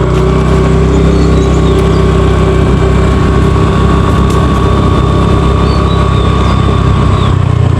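Steady diesel engine of a parked tractor idles outdoors, a continuous low rumble with a faint whine, holding at a constant level throughout with no talk.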